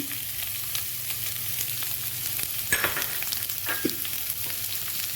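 Onion and ginger sizzling steadily in a hot pan for jackfruit seed masala, a continuous close frying hiss with a few brief stirring scrapes and no talk.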